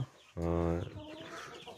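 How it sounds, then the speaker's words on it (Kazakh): Domestic chickens cluck in a newly built coop, with one loud, close, drawn-out call followed by softer scattered clucks and faint background noise. "Біздер бүгін тағы да бір тауықтар алып келдік. Домашний тауықтар."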